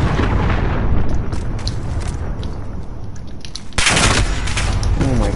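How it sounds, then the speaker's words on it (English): An allied cruise missile detonates in a Search and Destroy video game match, a loud, dense rumble of blasts and gunfire topped by a sharp, brighter explosion burst partway through. "Allied cruise missile away."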